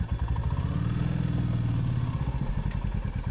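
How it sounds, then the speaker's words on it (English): A motorcycle engine idles and rises as throttle is added with the clutch held, a loud close chugging that swells into a brief rev and settles back to a rhythmic idle, with no talk. "Now I've got the clutch held. I'm going to add a little bit more gas."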